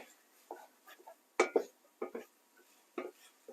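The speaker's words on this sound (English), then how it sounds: "Stir it around." A spoon clinks and scrapes against a pot while wild rice is stirred, in several short close knocks spread unevenly, with faint talk in the background.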